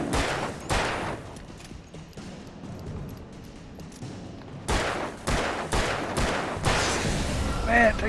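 Gunfire in Alan Wake Remastered crackles in sharp, close shots, an early burst, a quieter stretch, then a rapid run of repeated shots, with faint talk underneath.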